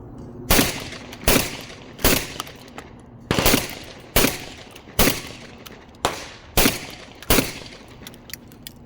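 A Beretta semi-auto shotgun fires eight loud, sharp shots in a steady, evenly spaced string, each crack followed by a short ringing echo, with no voices between them.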